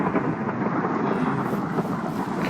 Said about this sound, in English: Huh, we're getting a thunderstorm.